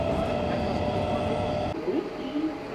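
A train running towards Howrah as it arrives at Bally station, a low rumbling drone of wheels and carriages that shifts and softens partway through, with faint voices around.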